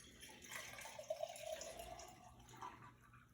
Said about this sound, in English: You'll see as I pour this water in.